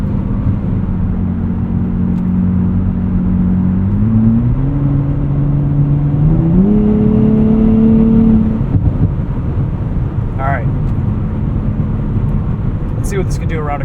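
A 2024 Nissan Z Nismo engine climbs in pitch under acceleration, stepping up through two quick upshifts, then settles into a lower rumble of road noise with a brief tire squeal near the end.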